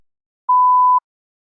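A single steady electronic tone of about half a second sounds alone in silence, the prompt beep of a TOEFL speaking practice test.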